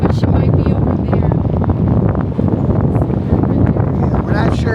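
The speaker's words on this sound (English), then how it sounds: "It's pretty windy up here." Strong wind buffets the microphone with a steady low roar while voices talk over it throughout, outdoors at Hotel Rumbao in San Juan, Puerto Rico.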